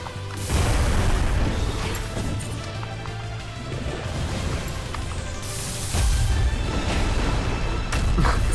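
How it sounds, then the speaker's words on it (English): Salvo missile pods firing and exploding in the Mass Builder game, a loud sustained barrage of booms and crashes with rolling blasts throughout, no speech. "This update has really made me love these salvo missiles."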